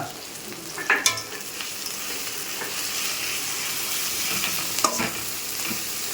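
Onions and ginger frying in oil for a chicken curry, a steady loud sizzle with a couple of sharp stirring scrapes near the start and again later, close and without speech.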